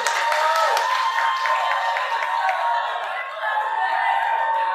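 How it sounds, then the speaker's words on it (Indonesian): Dense, steady applause from a student audience at a campus safety orientation, clapping for those who wear helmets riding motorbikes to campus; it runs continuously at an even level throughout with no talk over it. "Tepuk tangan untuk yang pakai helm berangkat ke kampus."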